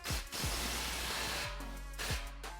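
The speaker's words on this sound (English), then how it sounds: "And we'll just snug the clamp down." A ratchet wrench tightens an exhaust clamp on a 2018 Mustang GT Fastback while fitting a Corsa 3-inch cat-back exhaust, giving close, crisp clicking bursts with brief pauses between strokes.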